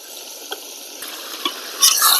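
Ginger garlic paste goes into a frying pan with green chillies and tomatoes and is stirred, giving a soft sizzle with a few scraping and clinking stir strokes that build louder near the end, no talking.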